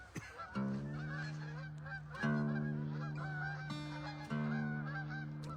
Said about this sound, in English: Geese are loud this morning.